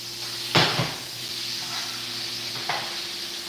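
Pot roast sears in a hot pan with a constant sizzling hiss, broken by a couple of sharp utensil clatters and a brief stirring scrape.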